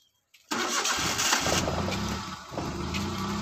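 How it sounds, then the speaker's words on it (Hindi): A car engine cranks and catches at once after a short silence, then settles into a steady, close idle, with the car held on the brake on a slope. "अभी ब्रेक दबा के इंजन ऑन करो क्योंकि ढलान है ना"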